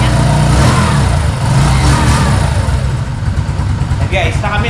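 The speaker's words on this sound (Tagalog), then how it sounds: "ang tunugan ng ating 125 Bajaj. Ganda ng andar" A Kawasaki CT125 Bajaj motorcycle, a 2024 model, runs close by with a steady, loud engine drone throughout, a low rumbling idle and no clear revving.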